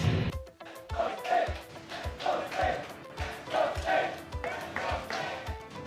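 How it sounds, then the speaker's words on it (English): An esports crowd at a mobile game grand final chants in rhythmic waves, with regular claps and stomps beating out the chant's pulse in the background behind the arena sound. "You can hear the Let's Go Slate sneaking into our mics."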